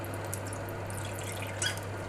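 Last few drips of liquid fall from a cooking pot into a pan of apple chutney ingredients, faint and sparse over a steady low hum in a kitchen.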